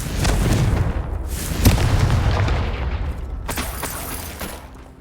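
A Confringo blasting curse in the Hogwarts Legacy video game sets off deep booming explosions that rumble loudly for several seconds, followed by a second blast that fades out.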